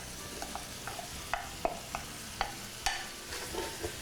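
Onion, carrot, garlic and celery cook in a pan with a soft, steady sizzle, punctuated by a series of light clacks and taps from a spoon stirring the vegetables, fairly quiet and close.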